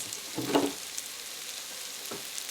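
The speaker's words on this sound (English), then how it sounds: "So to this pan, the same pan, we're gonna add in 1 package of some sliced white mushrooms" Sliced white mushrooms fry in a pan with leftover chicken drippings, a soft low sizzle with a couple of brief stirring scrapes, heard close and quiet.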